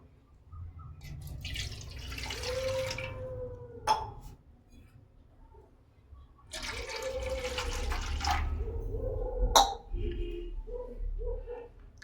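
Water splashes and gurgles as it is poured into a kadai on a gas stove in two separate bursts, with a short quiet pause between them and a low hum underneath.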